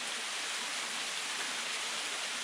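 A small waterfall in the forest gives off a constant, even rush of falling water, steady and unbroken throughout.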